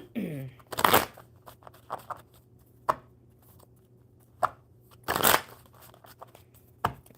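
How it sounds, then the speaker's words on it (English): Cards riffle and snap together in several quick shuffling bursts, with light taps and clicks between them, close by. "couple more good shuffles to clear them out"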